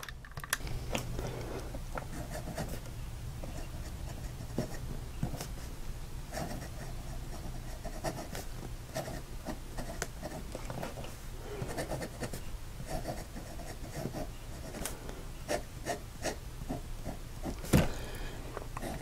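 A Chinese piston fountain pen nib writes on paper in a soft, continuous scratchy scrawl with small irregular strokes, close up and fairly quiet, with one sharper tap near the end and no voices.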